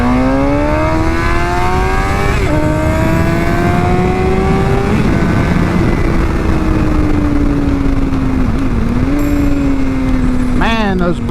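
A 2016 Suzuki GSX-R750 with a Yoshimura exhaust revs and accelerates loudly and close, the engine note rising and shifting through gears, with crackling backfire pops near the end.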